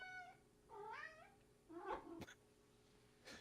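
A cat gives several close meows, each a rising and falling wavering call, with a sharp tap and a short rustle between the cries.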